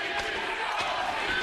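A wrestling arena crowd roars loudly and steadily at a women's match featuring ODB, a dense wash of cheering with a commentator talking over it; distinct name chanting is hard to pick out.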